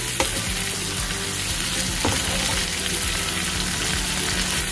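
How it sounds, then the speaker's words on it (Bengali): Loud, continuous sizzling of prawns frying in a pan, with a few scraping stirs, close by and without talk. "দেখতে পাচ্ছেন মাছটা ভাজা হচ্ছে"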